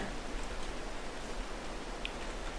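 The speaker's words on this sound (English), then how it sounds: "Oh good grief, it's actually raining all month." Steady rain ambience from the farming video game Farming Simulator 22, a continuous even hiss of falling rain with no voices.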